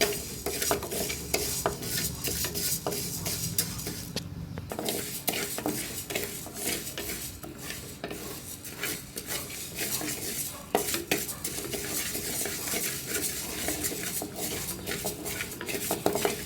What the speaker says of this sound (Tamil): இப்போ 1/2 கப்பு பாசிப்பருப்பு அதே இதில் வறுத்து எடுத்துக்கணும்.